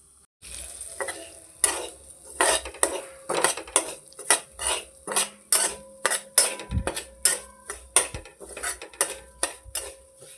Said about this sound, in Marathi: आपण आहे ना पहिला रवा भाजून घेऊया